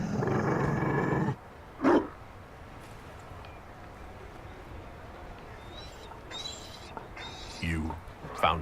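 A Mabari war dog in the video game Dragon Age Inquisition, giving a couple of short growling barks, with background clatter and ambience around it.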